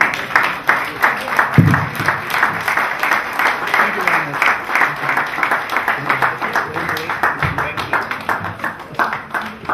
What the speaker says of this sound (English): Please, let's keep the clapping ovation running.